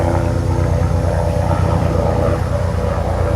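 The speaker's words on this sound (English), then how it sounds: "Got a black helicopter going over." A black helicopter flying overhead, its rotor thumping in a steady rapid pulse over a continuous engine drone, loud and close throughout.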